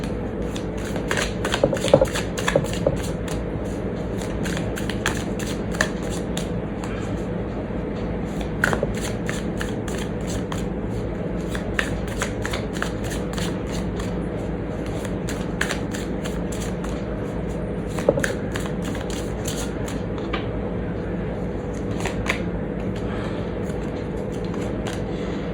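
A deck of tarot cards being shuffled, a long run of rapid riffling flutters and soft clicks repeating throughout over a steady hum, close and moderately loud.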